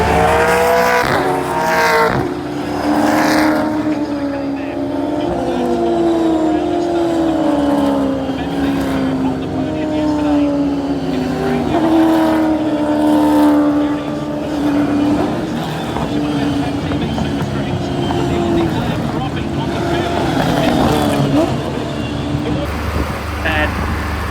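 Supercars racing at the Australian Grand Prix, engines droning and shifting pitch continuously as the cars pass, with a commentator talking over the track noise throughout.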